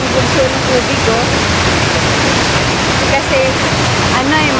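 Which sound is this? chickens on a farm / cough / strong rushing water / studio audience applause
strong rushing water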